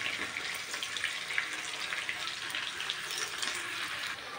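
Green chilies and chopped onion fry in oil for a homestyle biryani, giving a moderate, steady crackling sizzle with small bursting pops throughout, heard alone without any voices.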